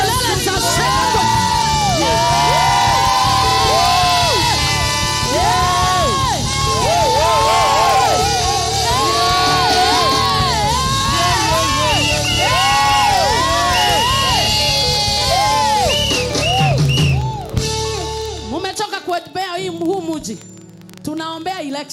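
A large crowd at a Good Friday street gathering yells, whoops and shouts with joy, loud overlapping voices rising and falling together for most of the time, then breaking into scattered cries as the roar suddenly fades.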